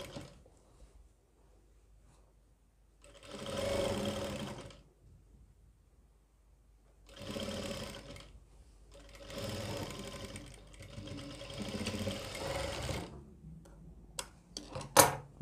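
A sewing machine stitches the collar of a medical nurse coat in three separate bursts of whirring, with quiet pauses between and a few sharp clicks at the end.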